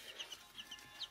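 A young turkey chick a couple of days old at a bird-rearing farm, giving a quick series of faint, high peeps close by, with no talk.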